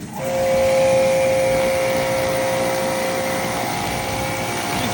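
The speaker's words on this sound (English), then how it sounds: "run the pressure washer over the antlers real quick" A pressure washer sprays deer antlers while they are cleaned for a European mount, giving a loud, steady, continuous hiss with a high whine that holds for the whole stretch, with no talking.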